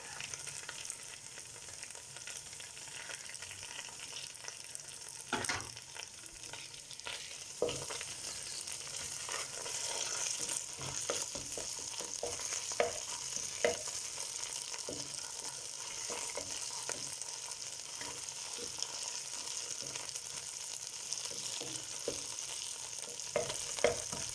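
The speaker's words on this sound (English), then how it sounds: "my tomato puree so I can continue frying it with it for a further 2 minutes" Tomato puree sizzles and fries steadily in a pan, with occasional stirring scrapes and soft clicks over a constant hiss.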